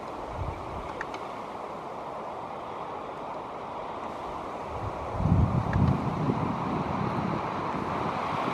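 Steady wind buffeting the microphone, a low rushing roar that swells into stronger gusts partway through, with no voices.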